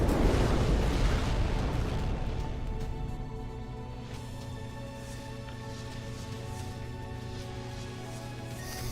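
A tracking missile bursts in the space game Between the Stars, a heavy blast at the start whose rumble slowly fades into a sustained low roar and ringing tones over several seconds.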